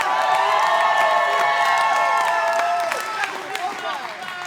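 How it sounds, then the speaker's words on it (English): Wrestling crowd in Campbell Hall during a tag team championship match, a loud sustained roar of cheering and shouting that eases slightly toward the end. "And this crowd going nuts for Just Vibin as they take that big stereo suicide dive to the Dream Team on the outside."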